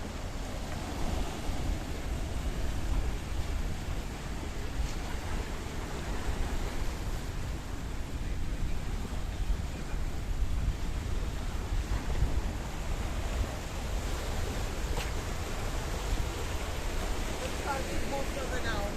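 Warm wind and choppy sea waves on the coast at Kato Paphos in Cyprus, a dense, steady wash of surf and gusting wind noise buffeting the microphone, loud and unbroken throughout.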